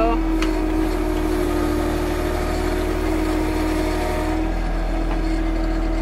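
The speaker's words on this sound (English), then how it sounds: "Tilling with the backhoe." A John Deere 1023e compact tractor's engine runs at a steady, close, low drone with no breaks while the backhoe tills a garden.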